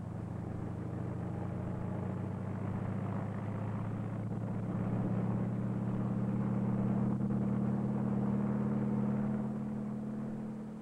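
Engine drone of a helicopter, of the postwar era, is heard in an old educational film: a steady, low, humming rumble that swells slightly midway and then fades a little, with no speech.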